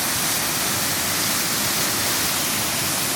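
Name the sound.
Sol Duck Falls waterfall and rapids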